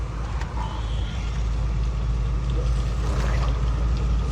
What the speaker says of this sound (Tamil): வண்டி போய்கிட்டு தான் இருக்குது